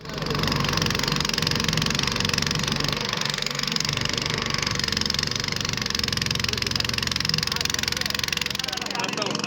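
A motor boat engine runs steadily at a river crossing, a continuous loud mechanical drone throughout while people talk over it.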